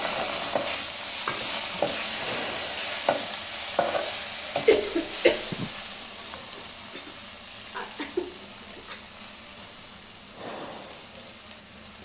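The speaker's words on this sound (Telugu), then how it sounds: "మాడకుండా సన్న మంట మీద పెట్టుకొని కొద్దిగా కలబెట్టుకుంటా ఉంటే మాడకుండా ఉండిద్ది." Beetroot gobi manchurian with chilli sauce stir-frying over a low flame, a soft continuous hiss and sizzle broken by scattered clicks and scrapes of stirring, fading somewhat toward the end; no speech.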